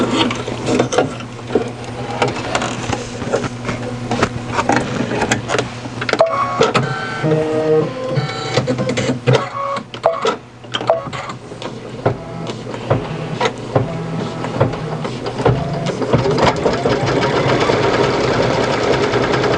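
Embroidery machine sewing a placement stitch for a unicorn horn on an in-the-hoop stuffed toy: loud, continuous rapid needle chatter with a steady mechanical hum, running close and unbroken throughout.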